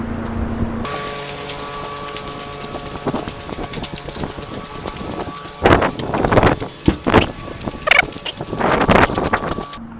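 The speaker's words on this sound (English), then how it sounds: "We've got our Storm fiberglass exhaust fan, which is currently running, which is why it's noisy." A Storm fiberglass exhaust fan runs steadily inside a light-deprivation greenhouse, giving a constant mechanical hum with tonal whine, while irregular knocks and rustles rise over it in the second half.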